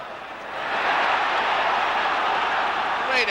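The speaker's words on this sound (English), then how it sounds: "the crowd rise to it" A 1978-79 Sunderland football crowd roars for Wayne Entwistle's hat-trick goal, a broad, swelling wash of cheering that rises within the first second and holds loud and steady throughout.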